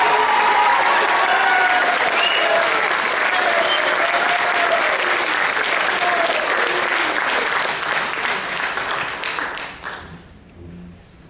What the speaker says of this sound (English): please, another round of applause for our receiver of the Director's Award